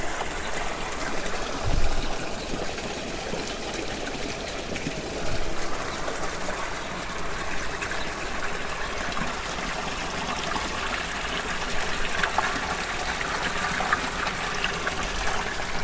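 Fresh water running steadily into a koi pond to top it off, a continuous close splashing trickle with small gushes, and no voices over it.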